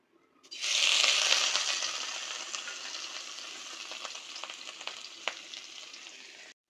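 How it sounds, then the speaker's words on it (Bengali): Washed dried fish (shutki) going into hot oil in a home kitchen, bursting into a loud, close, steady sizzle that continues with small pops and crackles, with no voices. "এই যে শুটকি ধুয়ে এখন তেলের মধ্যে দিয়ে দিব।"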